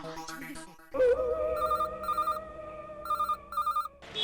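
A telephone rings in repeated bursts of a bright electronic ringtone, with two quick pulses, a pause, then two more, over a sustained background tone, with faint voices and music at the edges.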